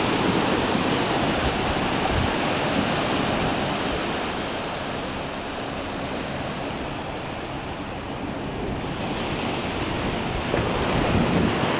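Ocean waves wash onto a beach on Waiheke Island, Auckland, with wind buffeting the microphone, a steady loud roar of surf with no voices.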